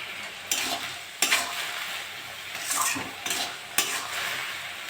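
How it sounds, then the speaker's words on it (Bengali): Leafy telshak greens, seasoned with turmeric and salt, fry and sizzle in a pan, with several sharp scraping stirs cutting through a steady close hiss and no talk. "শাকটা আমি ভাজা ভাজা করবো।"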